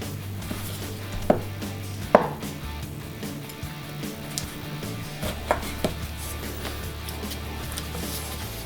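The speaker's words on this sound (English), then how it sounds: "I'm going to have a slice of lemon." A knife cuts through a lemon on a cutting board, giving a few sharp, close chopping taps spaced irregularly across a quiet kitchen, with faint background hum and no talking.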